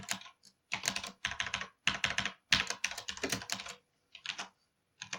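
Bursts of rapid key clicks from a computer keyboard as random numbers are typed in, coming in short irregular runs separated by brief pauses, close and clear with no talking.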